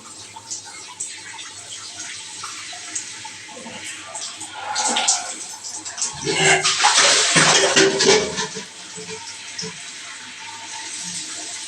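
Water is scooped and poured over the body during a bath on a scorching hot day, with splashing gushes that build in the middle and trickle off, amid quieter dripping and room noise.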